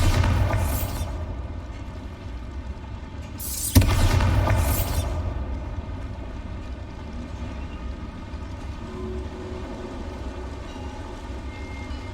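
A Bombarda spell explosion in the Hogwarts Legacy video game lands as one sudden boom about four seconds in, followed by a rumbling low roar that slowly fades. A shorter burst comes near the start over a steady low background drone.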